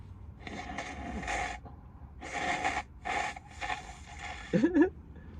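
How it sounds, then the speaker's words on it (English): Several bursts of breathy, rasping nasal blowing, close and fairly loud, separated by short pauses, ending with a brief squeaky honk. "Let me just blow my nose before I answer that question."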